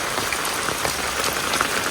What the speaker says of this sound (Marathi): पाऊस काय ऐकत नाही बाई